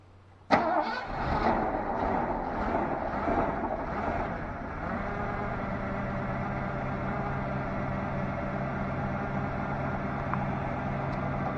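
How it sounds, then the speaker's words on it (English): A 40-year-old Chevrolet K5 Blazer engine cold-starts with a sudden loud catch, runs rough and uneven for a few seconds, then settles into a steady, fairly close idle with no talking. "You beat that for a cold start on a friggin' 40-year-old car"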